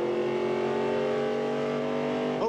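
A NASCAR race truck engine at the 1998 Ram Tough 200 holds a loud, steady high-pitched drone close by, with a brief blip of change near the end.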